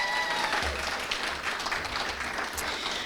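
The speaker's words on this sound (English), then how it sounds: "That deserves a round of applause." A school board meeting audience gives a sustained, even round of applause, a dense wash of many hands clapping together without pause.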